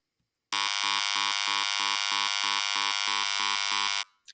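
Radio frequency emissions from a baby monitor rendered as audible sound: a loud, harsh electronic buzz with a rapid regular pulsing underneath, running unbroken for about three and a half seconds before stopping.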